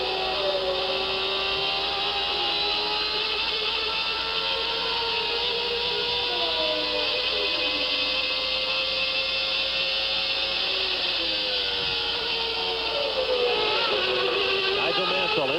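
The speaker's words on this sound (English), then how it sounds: "Let's listen to the sounds of the engine as he tries to make up ground." Onboard a 1990 Formula 1 car at the Mexican Grand Prix, a high-revving engine whines continuously, its pitch rising and falling with upshifts and braking, under steady wind and mechanical noise.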